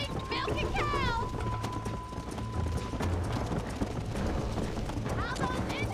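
A horse gallops in Red Dead Redemption, its hooves pounding in a quick steady rhythm throughout, with a brief whinny and a voice talking over the gameplay.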